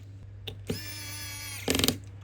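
An electric screwdriver whirs steadily for about a second as screws go back into a Samsung Galaxy S25 FE phone during a charging port repair, ending in a brief ratcheting burst over a low background hum.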